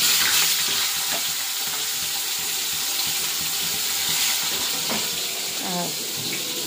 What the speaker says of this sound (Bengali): তো এখন এই যে ঝিঙেটা দিয়ে দেবো